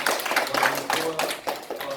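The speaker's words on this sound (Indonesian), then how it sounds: "Oke, kasih tepuk tangan dong." A group of people clapping hands in a classroom-style English lesson, a short burst of uneven claps with some voices underneath.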